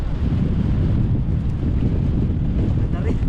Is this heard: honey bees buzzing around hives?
no